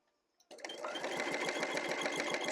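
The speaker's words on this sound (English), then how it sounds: "Sew to the crease." A sewing machine stitching quilt binding starts abruptly after a brief click and then runs fast and steady, a close, rapid mechanical chatter that continues to the end.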